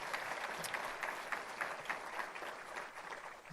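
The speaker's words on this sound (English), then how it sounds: "Can we give a round of applause, please, to the president and say thank you?" An audience at a community address applauds together, a steady dense wash of clapping that stays even throughout, heard from a moderate distance with no voices standing out.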